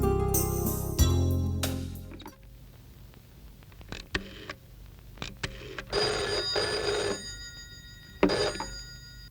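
An old telephone bell rings in a home, a loud burst at first, then quieter rings in short clusters with pauses between them and faint background noise.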